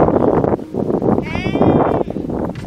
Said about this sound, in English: Now I found a sheep instead.